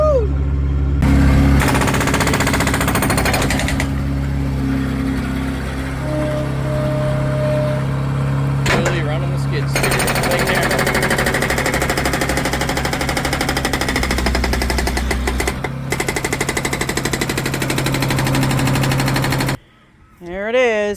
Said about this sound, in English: I'm gonna go jump in and see how much hammering I can do.